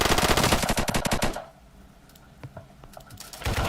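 Rapid automatic gunfire in a video game shooter, loud bursts of fast repeated shots that stop abruptly, followed by scattered sharp clicks and distant pops before another burst starts.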